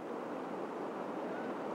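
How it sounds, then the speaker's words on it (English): Big curling waves in river rapids roar in a steady, dense wash of churning water, continuous and fairly distant, with no voices. "One of those big waves curls back and could be dangerous."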